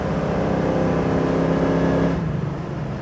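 A 1968 Chevrolet Camaro Z28 with a 350 engine revs hard on throttle, a loud sustained roar that holds steady, then eases off near the end.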